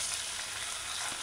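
Jerk chicken fries in a pot with a steady, close hiss and sizzle, broad and even throughout, no talking.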